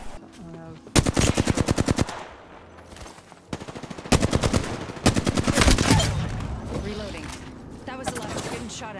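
Rapid automatic weapon bursts in the video game Apex Legends, several loud close strings of shots separated by short pauses, with a player speaking occasionally between them.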